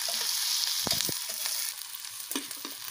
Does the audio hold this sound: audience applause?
no